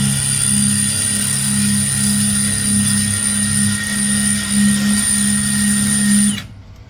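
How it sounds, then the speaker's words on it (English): A steady, loud high-pitched mechanical whine from a power drill with a larger drill bit runs continuously for several seconds, then stops abruptly. "Got a little bit bigger drill bit."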